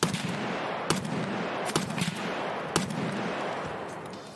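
Enemy gunfire in the online shooter Escape from Tarkov: a few sharp reports spaced about a second apart over a steady, noisy game background, moderately loud.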